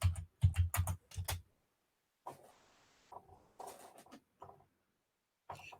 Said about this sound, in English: I'm going to type a word in.